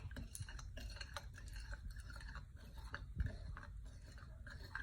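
Spoon scraping and ticking through a slime mixture made with glue, food coloring, glitter and activator, a busy stream of small clicks and squelchy taps, close and steady, with no voices.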